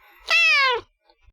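A female house cat gives a single loud, close meow lasting about half a second, followed by quiet.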